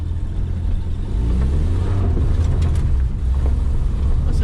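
A 1986 Plymouth Voyager with a carbureted 2.2-liter engine drives down a street, its engine a steady, close, loud low drone with mild rises in pitch, no talking over it.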